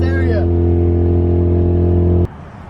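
Mazda Miata engine fitted with new exhaust headers holds a loud, steady idle drone with strong low harmonics for about two seconds, then cuts off abruptly, leaving faint background noise.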